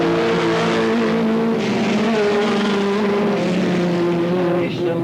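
Race cars at Alwalton Raceway roar past in a loud, continuous engine drone with sustained whining tones that shift in pitch as the cars pass, close and dominant with no voices.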